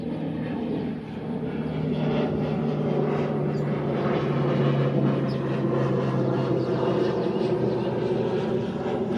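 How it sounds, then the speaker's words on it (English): Propeller airplane passing overhead above a home vegetable garden, a steady broad engine drone with a low hum that swells slightly as it nears, loud and continuous throughout. "Here comes the plane."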